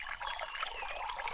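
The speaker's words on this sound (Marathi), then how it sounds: "हरद्याच्या पंपाचा पाणी येत आहे" Water flows from a pump into a channel in a Konkan forest, a faint, continuous trickle with a light burbling patter and no voices.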